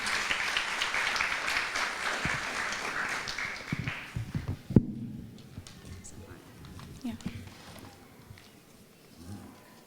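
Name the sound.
audience applause for a student speaker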